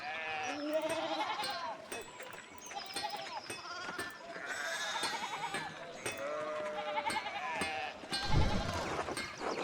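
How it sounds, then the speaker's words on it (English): Sheep in the medieval video game Pentiment bleat repeatedly, several overlapping calls close by over soft game ambience, with a heavier thump near the end. "apparently we can't get there because this sheep is blocking our way"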